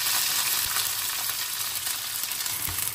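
Onion, ginger-garlic paste, bay leaf and whole spices sautéing in hot oil for goat intestine bhutun, a dense, continuous sizzle with occasional soft stirring knocks throughout, close and fairly loud, no voices.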